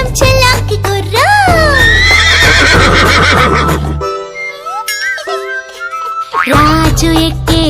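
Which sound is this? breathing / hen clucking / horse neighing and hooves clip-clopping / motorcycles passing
horse neighing and hooves clip-clopping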